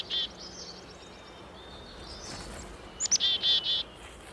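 A small songbird, a chickadee foraging among leaves, gives a high thin call near the start and then a quick run of clear repeated chirps toward the end over a quiet outdoor background.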